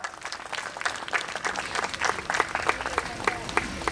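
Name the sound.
audience applause at school annual gathering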